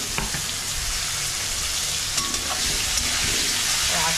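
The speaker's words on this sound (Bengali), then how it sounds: "একটু লাল লাল করে ভেজে নিতে হবে পেঁয়াজগুলো" Onions frying for a Bengali duck curry, a steady close hiss and crackle of sizzling in the pan with faint stirring scrapes, continuous throughout and no talking.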